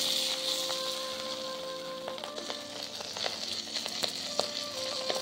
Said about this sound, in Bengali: মাছ কিন্তু আমি হালকা করে ভেজে নিয়েছি, আর কেমন ফেনা হয়ে যাচ্ছে দেখো